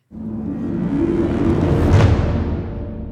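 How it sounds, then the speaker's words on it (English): The Big Builder combo preset stacks a full tutti orchestra crescendo with a harp ensemble glissando, swelling steadily from a soft entry to a bright, loud peak before easing slightly at the end. "we have a tutti orchestra crescendo at the top, a harp ensemble glissando in the middle"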